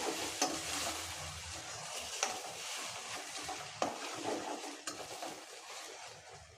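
Tomatoes and green chilies sauté in a pan for a village-style chicken curry, with a steady sizzle broken by occasional scraping stirs, fairly quiet and close.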